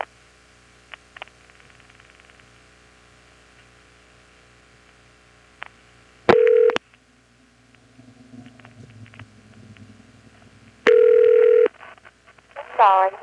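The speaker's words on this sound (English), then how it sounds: "I'm dialing 311, which I expect will be a vacant code for New Bern's long-distance equipment" Telephone dialing 311 on a 1977 NX1-E exchange in Vanceboro, North Carolina, with faint line clicks, two loud sustained tone bursts some seconds apart and a rising warble at the end, while a person talks.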